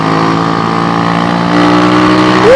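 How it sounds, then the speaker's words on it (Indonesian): An SND ZS 190 motorcycle engine, a Daytona Anima replica, runs loud and close with a steady rumbling drone, then climbs sharply in pitch as it revs at the end. "Jalan-jalan dengan mesin SND ini"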